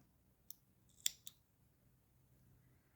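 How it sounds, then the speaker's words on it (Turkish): Scissors snip through red yarn during two-needle knitting of a spotted beanie: three quick, crisp cuts close by, the middle one loudest, then quiet. "kırmızı ipimi buradan kesiyorum"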